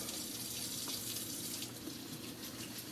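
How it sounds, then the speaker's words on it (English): Tap water runs in a steady, close, full gush while freshly picked mushrooms are washed under it for a homemade spaghetti sauce; no one speaks. "So wash them off and maybe dry them off."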